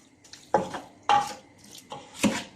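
A spoon stirs aloo keema, a spiced minced meat and potato dish, in a cooking pot, making three distinct scraping clanks against the metal, spaced about half a second apart, close and fairly loud.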